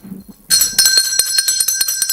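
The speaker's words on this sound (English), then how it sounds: "I just ring the bell of blessing on you." A bell rung by a radio show host on a call-in program rings out in a quick series of bright, shimmering strikes that start abruptly and keep ringing close and loud, after a few faint low sounds.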